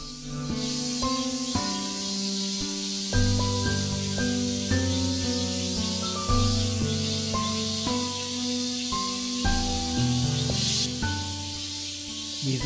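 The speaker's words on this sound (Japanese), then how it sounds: "蝉の声がうるさいほど、" Cicadas drone loudly and continuously in a rural Japanese countryside setting, a steady high hiss running beneath plucked, melodic music.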